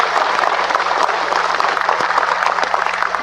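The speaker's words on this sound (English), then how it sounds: "Let's give ourselves a round of applause." An audience at an indigenous peoples' council gathering in Guyana applauds themselves, producing a steady, even wash of clapping throughout with no pause.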